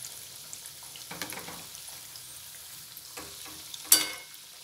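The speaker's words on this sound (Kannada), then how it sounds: "ಸ್ವಲ್ಪ ಗೋಲ್ಡನ್ ಬ್ರೌನ್ ಆಗೋ ತನಕ ಇದನ್ನು ಕರ್ಕೊಳ್ಳೋಣ" Masala vada of three beans with onion frying in oil, a faint, intermittent sizzle with a few brief bursts and one sharp spatter pop, no voices.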